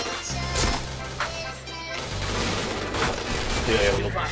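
Gunfire in the shooter game Point Blank, with dense, continuous rapid shots and impacts layered over game noise and background music.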